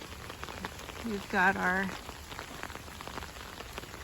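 Steady soft rain patters over a spring garden of plants and a pomegranate bush on a wet morning, a continuous fine hiss throughout, with a short stretch of someone talking partway through.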